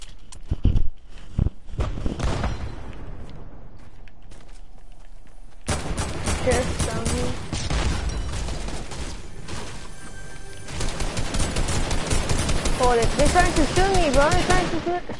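Gunfire crackles through a PS4 shooter match, with scattered early shots, then dense sustained bursts from about six seconds to the end, mixed with game sounds and players talking over it.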